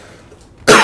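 A single sharp human cough bursts out loud and close after a near-silent stretch, bright and forceful, with no talk around it.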